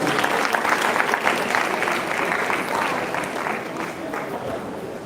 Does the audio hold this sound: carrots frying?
no